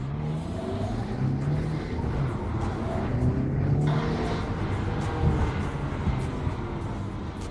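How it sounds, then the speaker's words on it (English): Steady Ferrari 360 Spider engine drone with rising and falling exhaust revs, continuous and fairly close, no voices. "We have the sound of the exhaust."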